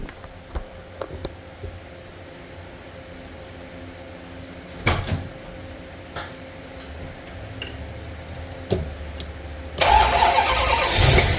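A classic truck's engine cranks and turns over, with scattered clicks and knocks before it, then a loud steady idle kicks in at the end.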